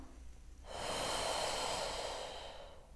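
Woman in a pregnancy exercise routine taking one long, deep breath in through the nose, close and clear, lasting about two seconds with no talk over it.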